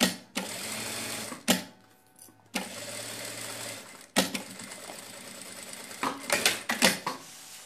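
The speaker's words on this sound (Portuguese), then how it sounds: "Costurei um pedacinho, dei retrocesso, vou deixar um tanto ali de abertura, começo com retrocesso e costuro" A sewing machine stitches the side seam of a fabric bag, its motor whirring in steady runs that stop and restart with brief pauses for backstitching, close and fairly loud, with some clicking and rattling toward the end.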